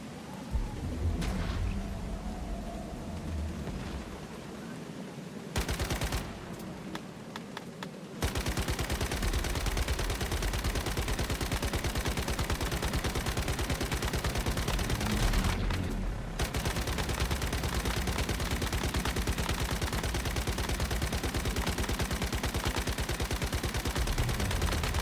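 Sustained automatic gunfire in the survival shooter game Once Human, a rapid, loud, continuous rattle of shots that runs almost unbroken for most of the stretch, with brief pauses early on and one short gap midway.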